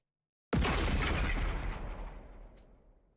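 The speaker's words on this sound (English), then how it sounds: "Short, sharp explosions suddenly rang out around us." Bombs detonate in the video game The Hundred Line, one sudden heavy explosive boom that starts after a short silence and rumbles away over about three seconds, loud and close.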